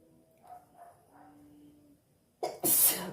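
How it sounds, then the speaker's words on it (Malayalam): A single sharp sneeze bursts out near the end, loud and close, after a stretch of faint background murmur. "ഒന്നും ചെയ്യാൻ സമ്മതിക്കുന്നില്ല ഈ തുമ്മല്"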